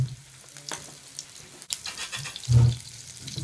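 Sunfish fry in a pan, giving a steady sizzle with crackling and spattering, punctuated by a scraping stir and a brief louder hiss near the end.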